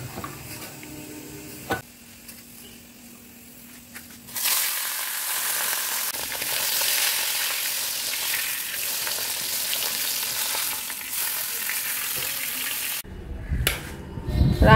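Fish fries in a pan, first as quiet background noise and then as a loud, steady sizzle that lasts about nine seconds before it cuts off into some clattering.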